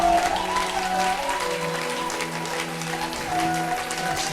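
A church congregation at a Sunday service claps and cheers in steady, dense applause mixed with sustained organ or keyboard tones, filling the room at moderate loudness.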